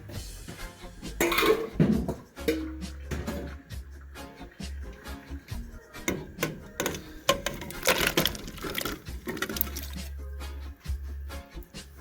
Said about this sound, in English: I'm gonna add the potatoes to the pot